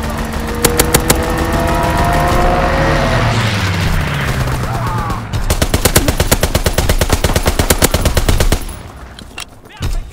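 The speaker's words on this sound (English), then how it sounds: "call for a strafing run" Call of Duty: WWII fighter-plane strafing run on the Shipment 1944 map, with rapid machine-gun bursts hammering loudly over roaring engines and a diving plane, a long close fusillade with a brief pause midway and stray shots trailing off.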